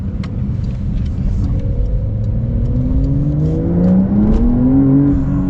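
A 2023 Porsche 911 GTS in sport mode accelerates hard, its engine note climbing steadily through the revs under a constant road and cabin roar, with no talking.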